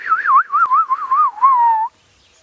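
A brown-crowned tchagra gives a clear, loud whistled call of wavering notes that slide steadily downward in pitch, sung alone for about two seconds before falling silent.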